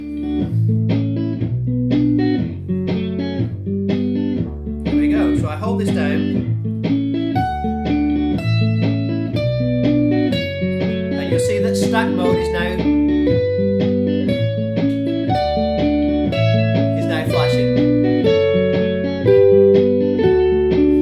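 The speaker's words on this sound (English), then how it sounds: "I play the melody, and it will repeat 3 times, and then it will fade away" A melody is looped and layered on a Boomerang looper pedal, giving a steady repeating electric pattern with overdubbed notes on top. Someone talks throughout over the loop.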